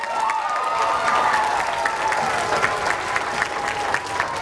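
Steady applause from a school assembly audience, a dense wash of clapping with some crowd noise and light cheering, sustained throughout.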